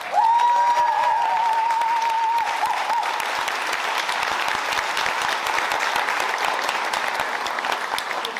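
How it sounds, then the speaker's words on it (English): A room of award finalists and guests at an awards event breaks into sustained applause, dense and steady throughout, with a brief tonal whistle or feedback tone at the start before the clapping fills the space alone. "I think that alone, and this is for every single finalist in the room, is worth a huge round of applause"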